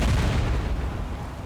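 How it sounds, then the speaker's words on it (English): A grenade launcher in Soldier of Fortune: Payback fires with a dense, loud booming blast that rolls on as a continuous rumble throughout. "This nade launcher."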